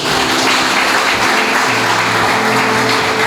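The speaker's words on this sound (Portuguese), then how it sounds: "Você pode aplaudir a Jesus por isso?" A church congregation claps during a sermon, a sustained loud wash of applause with a faint tonal hum beneath, no speech over it.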